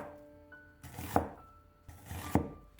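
A kitchen knife slicing half an onion into thin strips on a cutting board, giving two distinct quiet chopping thunks spaced about a second apart in a calm kitchen.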